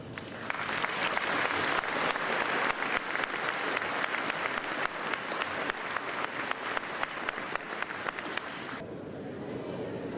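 Sustained audience applause honouring Paris firefighters at a mayor's New Year address, a dense, even roar of clapping for about nine seconds that cuts off abruptly near the end.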